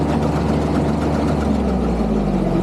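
A rice threshing machine's engine runs steadily and loudly up close, a continuous droning rumble with no breaks and no voices over it.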